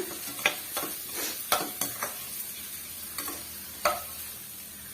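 Onions with salt being stirred and sautéed in a pan for beetroot poriyal: a steady low sizzle underneath, broken by irregular sharp clicks and scrapes from the spoon against the pan, with no voices.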